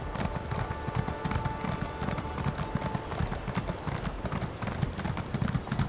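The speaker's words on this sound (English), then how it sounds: "that'll cut down on a lot of this horseback" Rapid, steady hoofbeats of a horse galloping in Elder Scrolls Online, a dense clip-clop rhythm running throughout over game background noise.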